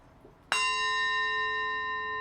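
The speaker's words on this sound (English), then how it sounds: "I should have let the bell ring out." A single bell struck once as a stream starts, a clear bright ding that rings out and sustains steadily to the end with no voices.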